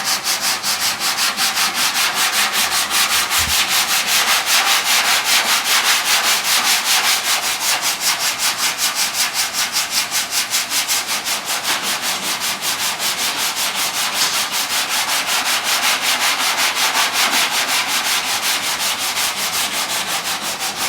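Hand sanding the body of a 1968 Ford Mustang with 80-grit sandpaper, a loud continuous rhythmic scraping of rapid back-and-forth strokes, close up and steady with no voices.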